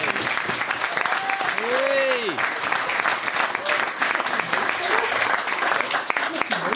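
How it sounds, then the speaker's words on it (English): Steady applause from wedding guests during a speech, clapping evenly throughout with a few voices calling out over it. "A round of applause for"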